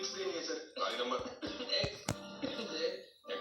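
Several short coughs and throat-clearing bursts from a person, close and moderately loud, broken by brief pauses amid background game audio.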